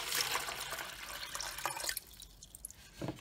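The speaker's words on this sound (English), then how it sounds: "And let's add the water back in." Water pours and drips into a homemade check valve setup, a close, light splashing stream for about two seconds that thins to a few scattered drips.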